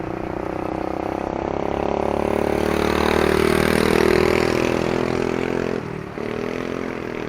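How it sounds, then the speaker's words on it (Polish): Motor scooter passing on a road in Cambodia near the Angkor temples, a steady buzzing engine drone that swells louder toward the middle and then dips as it moves on. "O tu po mojej lewej zaraz fajny, fajny transport na, na skuterku."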